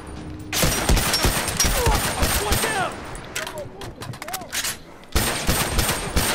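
Sustained automatic gunfire in a shooter game, loud and dense, with a pause in the middle before another heavy burst resumes; faint pitched game effects sit under the shots.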